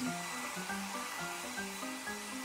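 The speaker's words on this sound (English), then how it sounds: "blow dry it." A hair dryer blows over a toy van in a play car wash, a steady faint whooshing hum with wavering tones, continuous and unbroken.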